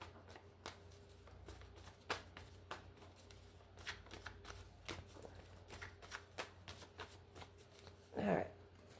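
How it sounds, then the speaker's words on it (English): Tarot cards are shuffled by hand close up, a long run of quick, soft riffling clicks and flicks ending in a short louder burst, faint and steady with no talk. "we're going to do 3 shuffles"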